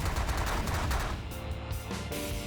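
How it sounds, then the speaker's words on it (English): Heavy, continuous weapon fire from space combat in The Last Federation strategy game, a dense barrage of rapid gunfire-like blasts packed close together and loud throughout, with no voices. "There's just so much firepower flying around here."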